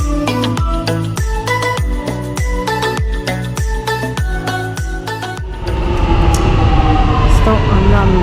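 Singapore train clattering rhythmically over rail joints in a steady repeating pattern, loud and close, then giving way to a broad rushing roar.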